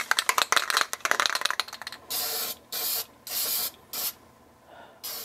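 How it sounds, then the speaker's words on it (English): Krylon clear coat sprayed from a rattle can: a can shaken with quick rattling clicks, then four or five short hissing bursts of spray, close and fairly quiet. "So I'm gonna spray it with a clear coat, just a Rattleclan clear coat, just to protect the paint a little bit."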